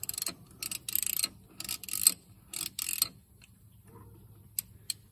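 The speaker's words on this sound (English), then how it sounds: "we're just going to take a 1 1/8 inch socket and I'm just going to unscrew that out of there" A 1 1/8 inch socket wrench loosening a neutral safety switch on a Ford tractor gives bursts of quick ratcheting clicks, close and distinct, separated by short pauses and ending with a few isolated clicks.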